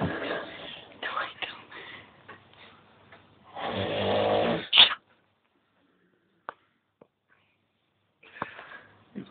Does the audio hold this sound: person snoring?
yes